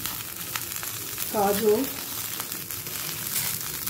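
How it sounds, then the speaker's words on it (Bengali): Potatoes, beans, carrots and brinjal fry on high flame in a little oil in a pan, a steady close hiss and sizzle throughout with faint stirring, while a voice speaks briefly. "বেগুন দিয়ে হাই ফ্লেমে 2 থেকে 3 মিনিট ভেজে নেব।"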